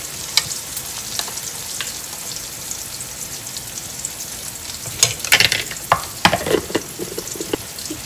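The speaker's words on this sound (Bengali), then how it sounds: "পেঁয়াজ রসুনটা একটু আধা ভাজা হয়ে গেছে, এখন আমি এতে দিয়ে দিব সামান্য একটু আদা রসুনের পেস্ট" Onion and garlic fry in hot oil with ginger-garlic paste stirred in, giving a steady close sizzle with scraping stir sounds, louder spatters and clatter near the end, no voices.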